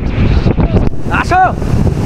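Strong wind buffets the microphone in a steady broadband roar throughout, with a voice speaking briefly over it.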